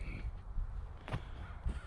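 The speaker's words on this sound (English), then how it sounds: "I hear the crows. I love them." A crow caws faintly in the distance over soft outdoor background noise.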